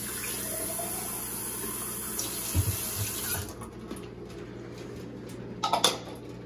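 Hot water pours steadily from a kitchen tap into a sink, a continuous rushing stream that grows brighter and splashier toward the end, with a few soft knocks in the middle.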